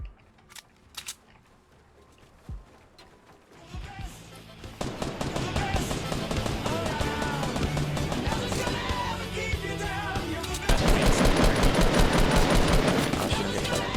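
Rapid gunfire in Fortnite Battle Royale strikes the player, a loud, dense clatter of shots that builds and intensifies toward the end, following a few sparse clicks and taps.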